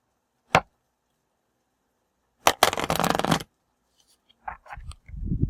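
Playing cards are shuffled for a card reading: a single short riffle, a pause, then a longer flurry of crisp card flutters, followed by a few softer taps and shuffles near the end, all close and with no voices.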